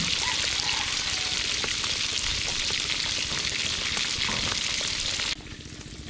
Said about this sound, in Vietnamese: Chiên cho nó gần vừa, nó gần giòn.